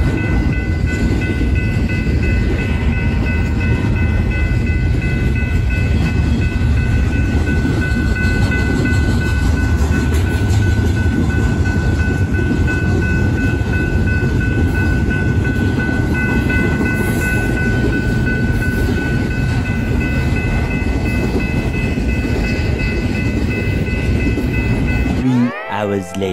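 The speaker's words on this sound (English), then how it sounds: "There goes another train." A long train rumbles past close by, a continuous heavy roar with rail clatter and a steady high squeal, fading abruptly at the end.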